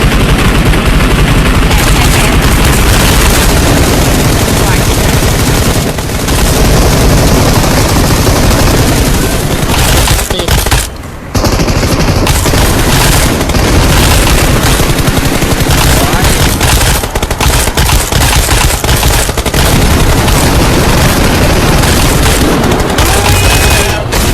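Loud, nearly constant PUBG Mobile gunfire fills the scene, rapid automatic bursts and heavy booms layered thick with brief dips, while players shout excitedly over the shooting.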